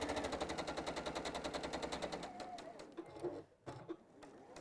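A home sewing machine stitching a seam on a reversible T-shirt tote bag, a rapid, even mechanical rattle that runs for a couple of seconds, then slows and stops with a few clicks, heard close up.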